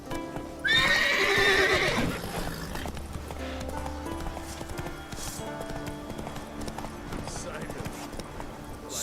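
Roach the horse in The Witcher 3 gives a loud, close whinny near the start, then hooves clip-clop steadily at a gallop while game dialogue and music play underneath.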